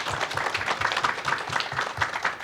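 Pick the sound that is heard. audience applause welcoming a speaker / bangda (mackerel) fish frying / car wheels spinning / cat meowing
audience applause welcoming a speaker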